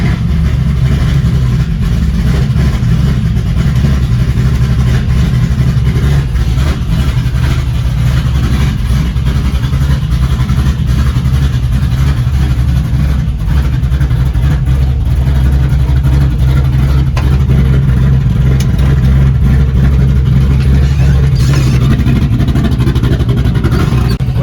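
A Chevy Blazer with a new Black Widow muffler and upgraded cam rumbles loudly and steadily up close, its deep exhaust note holding a constant heavy drone with only slight rises throughout.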